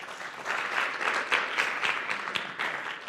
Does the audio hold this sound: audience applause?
yes